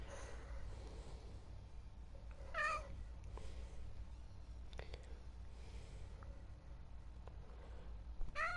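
A house cat lets out several short meows at irregular intervals against a quiet, low background hum.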